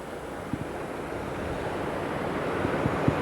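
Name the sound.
floodwater flowing across a street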